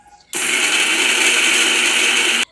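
A mixer grinder runs loud and steady for about two seconds, whirring through peeled garlic, green chillies and curry leaves for chana dal vada, then stops abruptly.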